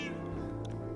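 A house cat meows briefly and faintly over a steady low hum, one short call near the middle with no talk.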